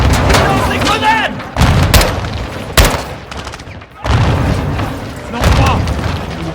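Grenade blasts and rapid gunfire from the video game Call of Duty Modern Warfare 2, with loud booms and bursts of shots recurring through a busy battle mix while voices shout over the action.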